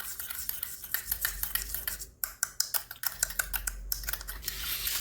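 A spoon clinks and scrapes rapidly against a container while stirring Eno and salt into water, producing a quick, busy rattle with brief pauses, close and fairly loud.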